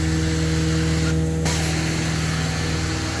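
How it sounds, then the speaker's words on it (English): A steady, continuous hiss of pre-spray being sprayed onto commercial carpet against a constant low hum, without pause or voices for a few seconds. "Started pre-spraying his side."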